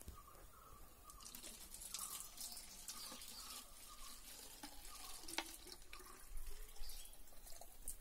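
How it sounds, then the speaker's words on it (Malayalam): Water pours into a plastic bottle pierced with holes, a faint continuous splashing and trickling that runs throughout with small drips, no voices. "ഞാൻ 1ാമത്തെ ബോട്ടിലേക്ക് വെള്ളമൊഴിക്കുകയാണ്"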